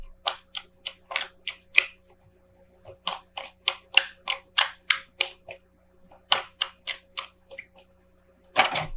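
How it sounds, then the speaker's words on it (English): Tarot cards being shuffled by hand give a long run of quick papery riffles and taps, steady and close, with a faint background hum and no speech. "I'm having like such a hard time shuffling tonight."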